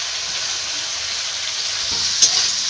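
Sliced onions fry in hot oil in a pan for a chicken and potato curry, a steady close sizzle with a couple of louder stirring scrapes near the end.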